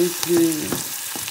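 Onions frying gently in a pan over a very low flame for a spiced dish, a soft steady sizzle with a few light stirring scrapes, close by and with no talking.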